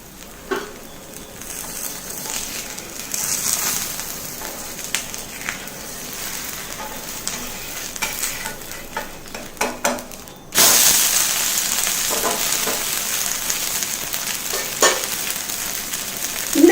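Bottle gourd dosa fries in oil on a pan with a soft, patchy sizzle and scattered crackles that swell into a louder, steady hiss partway through as more oil meets the hot surface.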